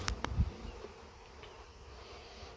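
Honeybees buzzing during installation of a package of bees, a soft steady hum close by after a few sharp knocks at the start.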